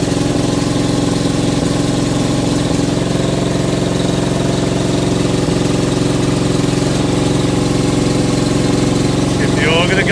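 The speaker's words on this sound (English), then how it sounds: "I'm going to give the auger its first run out." A petrol-powered auger's small engine runs loud and steady at close range for the whole stretch, with a constant mid-pitched drone and no breaks.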